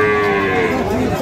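A Sahiwal breed calf moos loudly and close by at a busy cattle market in Dinajpur, one long drawn-out call over background crowd murmur.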